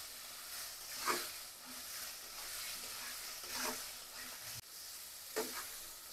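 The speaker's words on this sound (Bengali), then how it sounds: "আলু দিয়ে মশলার সাথে ভালোভাবে কষিয়ে নিব।" Small potatoes frying with spices in a pan for a thin snakehead fish curry, a faint steady sizzle with a few soft stirring scrapes, with no voices.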